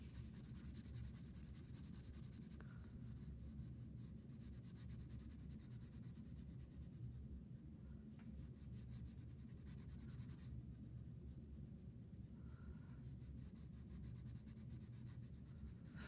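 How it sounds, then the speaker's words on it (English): A pencil lightly shades a sphere drawing on paper, a soft, steady close-up rasp of graphite rubbing back and forth with faint strokes and no talk. "very lightly with my pencil, I'm going to shade in the rest of my sphere"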